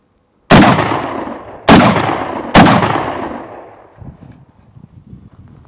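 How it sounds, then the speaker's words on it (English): Three loud, close gunshots from a Kel-Tec SU-16 rifle fire in quick succession, each sharp crack trailing off into echo, followed by quieter rustling handling noise. "I really like this gun. It just keeps on shooting."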